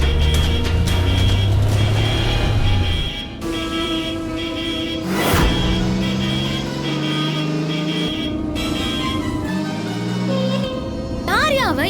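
A car drives fast along a road with a continuous engine roar and passing-vehicle sweeps, loud and close, while people talk over it amid dramatic background sound.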